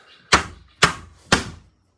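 Three sharp, heavy metallic blows ring out at an even pace while a broken emergency window latch is beaten loose on a school bus conversion, each strike loud and close with brief decay.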